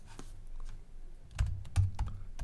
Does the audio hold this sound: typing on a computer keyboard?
yes